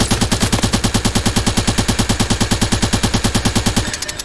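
Rapid, sustained machine gun fire in the video game Worms W.M.D., in steady bursts, loud and close, with a rattling rhythm that stops abruptly near the end.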